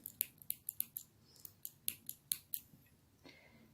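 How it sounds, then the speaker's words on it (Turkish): Scissors snipping thread and nylon fishing line on a needle-lace flower, about a dozen crisp, close metallic clicks in quick uneven succession in a quiet room. "İplerini kesiyoruz. Misinayı da kesiyorum aynı zamanda alttaki."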